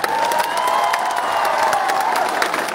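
A crowd at a live stage show claps and cheers steadily, a loud continuous wash of applause and shouts with no clear break.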